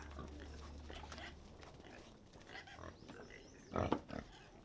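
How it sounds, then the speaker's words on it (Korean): Domestic pigs kept by Dani farmers give rough grunts amid a noisy outdoor scene, with a louder burst of grunting near the end. "바로 돼지입니다."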